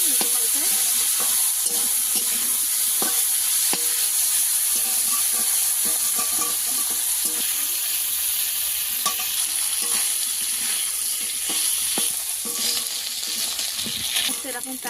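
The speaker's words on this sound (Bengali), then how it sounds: "দিয়ে দেবো শুটকি মাছগুলো। ভালো করে ভেজে নিতে হবে নিচে পাল্টে।" Dried fish (shutki) fries in a hot pan with a constant close sizzle, punctuated by scraping and clicking as the pieces are stirred and turned.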